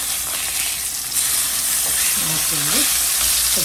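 Salmon fish pieces frying in hot oil and being flipped in an Indian-style crispy fish fry, a steady close sizzle with a few stirring scrapes and brief tonal sounds near the end.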